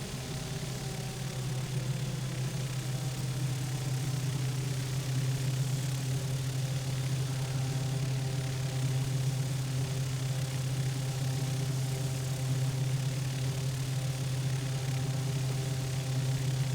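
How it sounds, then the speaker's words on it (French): Canadair CL-415 water bomber turboprop engines heard from inside the aircraft, a loud, constant low drone with steady tonal hum and vibration, unbroken for the whole stretch, no talking. "les moteurs de ces avions les turbos propres"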